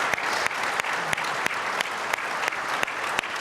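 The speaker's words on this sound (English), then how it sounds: "if we could give a round of applause to our panel" A keynote audience at a trade show gives a panel a sustained round of dense applause, steady throughout, with a few sharp, louder claps standing out at regular intervals.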